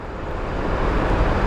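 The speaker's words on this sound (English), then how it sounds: "let's watch some taxiing before I go off" An airplane taxiing at Phoenix Sky Harbor airport gives a brief, steady, fairly loud engine roar with broadband rushing noise and no voices.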